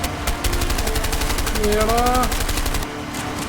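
Rapid automatic gunfire rattles in the video game A Way Out, a dense burst of close shots while someone shouts over it.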